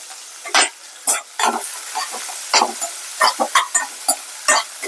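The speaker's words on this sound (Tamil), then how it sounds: "நல்லா பொரிஞ்சிடுச்சு வெங்காயம்" Onions frying with cumin seeds for a Bombay vada kulambu make a steady sizzle punctuated by repeated sharp scraping strokes of a spoon stirring in the pan.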